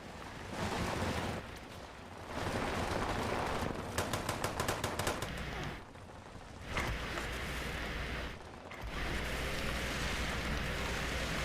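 Video game gunfire in Fallout 76: bursts of rapid shots over a dense, noisy in-game soundscape, moderately loud, with a fast automatic volley in the middle and sustained rumbling around it.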